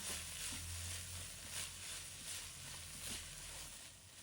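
Broccoli and minced garlic stir-fry in a wok, giving a soft, steady sizzle with faint stirring scrapes, heard close but quietly with no talking.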